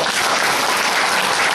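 Dense applause from a crowd of people clapping hands, loud and continuous, a steady even wash of claps with no break.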